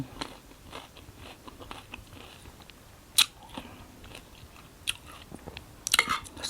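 Someone eats a sour pounded grape salad with fish sauce, making soft, irregular chewing and crunching sounds close by, with a few sharper bites standing out.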